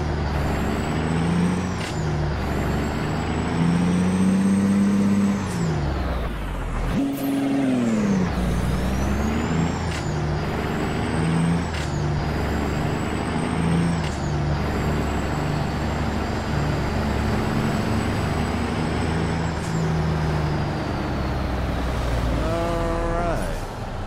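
Kenworth K200 truck in American Truck Simulator: a steady diesel engine drone rising and falling with revs, with sharp hissing air-brake releases at several points and a brief squeal near the end.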